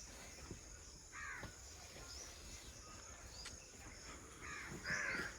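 Crows cawing among the trees beside the Narmada riverbank at a quiet ashram, a few scattered calls at moderate distance over a faint steady insect drone.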